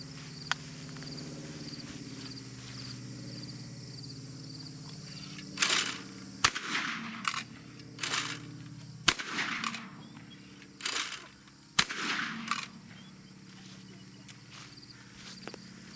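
Browning A5 Sweet Sixteen 16 gauge autoloading shotgun fires at clay targets outdoors, about seven or eight sharp moderate-level reports spaced a second or two apart over steady insect chirping.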